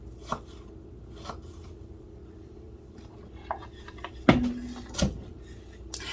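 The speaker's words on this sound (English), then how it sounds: "I'm obviously not chopping these things up as fast as it's showing on this video" Sparse knife chops on a cutting board, cutting potatoes and onions, a few isolated taps then two sharper strikes close together, with a faint steady hum underneath.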